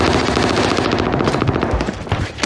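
Rapid automatic gunfire in a battle royale shooter match, loud and continuous bursts of shots filling the whole moment with no talk over it.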